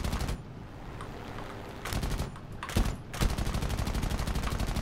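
Rapid machine-gun bursts from an A-36 aircraft in a combat video game, several loud rattling streams of fire, with the final burst running continuously to the end.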